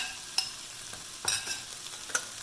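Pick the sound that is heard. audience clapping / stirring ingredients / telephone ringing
stirring ingredients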